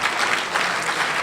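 Awards ceremony audience applauding, a loud, dense wash of many hands clapping steadily throughout.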